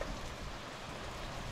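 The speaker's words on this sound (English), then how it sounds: "January 16th and it's raining." Rain falling on a farmyard glazed over with ice in January, a steady even hiss of drops with no voices, close and continuous.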